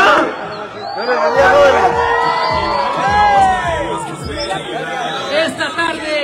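At a political campaign rally in San José Villa Nueva, Guatemala, a large crowd cheers, whoops and shouts loudly and close by, with voices chattering and calling out through the babble.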